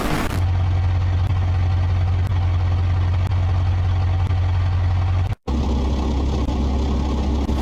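A supercharged 3.6 liter V8 from the Brutta Grander in BeamNG.drive runs steadily with a loud low drone and faint whine, cutting out briefly near the end before resuming, with no talking.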